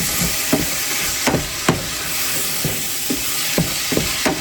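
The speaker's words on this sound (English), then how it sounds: "Can you hear the sizzle?" Steady loud sizzling and hissing of hamburger meat frying in a pan, punctuated by several sharp scraping or clinking hits of a meat chopper utensil.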